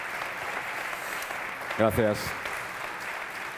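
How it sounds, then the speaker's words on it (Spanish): Steady audience applause at a public talk, a continuous even wash of clapping throughout, with someone briefly speaking over it near the middle. "al que pido un fuerte aplauso"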